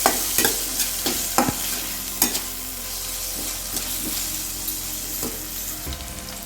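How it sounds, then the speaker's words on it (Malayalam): Food is stirred in a hot frying pan, giving a continuous sizzle with repeated sharp spatula clacks and scrapes against the pan, loudest early on and then settling into softer stirring. "അതും കൂടി ചേർത്ത് കൊടുത്തിട്ട് ഇറക്കാം നന്നായി ഇളക്കി എടുക്കാം"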